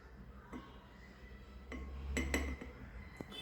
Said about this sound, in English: Now we'll mix blue color into cold water jar.